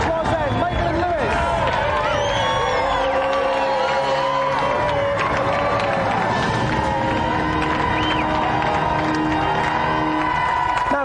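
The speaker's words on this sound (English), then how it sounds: "Let's have another round of applause then, Michael and Lewis." Studio audience at the GamesMaster game show applauds and cheers in a dense, steady roar that fills the whole stretch, with brighter whoops riding on top.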